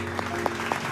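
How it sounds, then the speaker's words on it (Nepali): Applause from a studio audience at a Nepali folk singing competition show, a brief burst of dense clapping with a few sharper claps standing out over a steady background tone. "म उठेर ताली बजाउन चाहन्छु"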